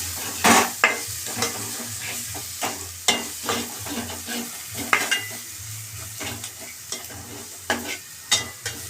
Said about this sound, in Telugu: ఇవన్నీ బాగా కలుపుతున్నాం ఫ్రెండ్స్